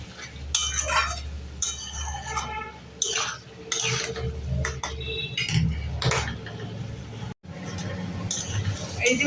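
Spices with cumin powder being stirred and fried in a pan: repeated metal spoon scrapes and clinks against the pan under a soft frying hiss, close by, with a voice speaking over it.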